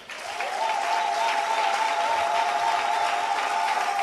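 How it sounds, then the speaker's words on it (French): A church congregation applauds and cheers for the maintenance volunteers, a dense, sustained clapping that swells in the first half-second and holds steady throughout, with no speech over it. "Nous les acclamons encore."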